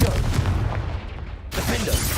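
A Confringo blasting spell explodes in Hogwarts Legacy, a loud booming blast with a rumbling tail. A second burst cuts in sharply midway through the short clip.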